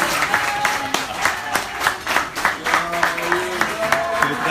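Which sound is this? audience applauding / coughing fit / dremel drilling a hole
audience applauding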